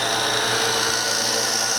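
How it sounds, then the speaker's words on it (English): A power drill fitted with a plug cutter bores into wood, producing a loud, steady whine and grinding rasp that carries on unbroken and close up, with no voices. "just drill a series of holes."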